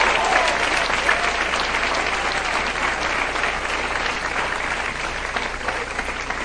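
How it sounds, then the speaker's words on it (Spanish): Loud, sustained applause from a church congregation at a worship service, a thick continuous wash of clapping with faint crowd voices mixed underneath. "Aplauda fuerte al rey que se lo merece."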